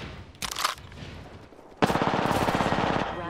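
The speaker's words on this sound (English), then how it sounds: "I am taking fire, friends" Automatic gunfire in the battle royale game Apex Legends, a short burst early on, then a loud sustained rattle of rapid shots that fades out near the end.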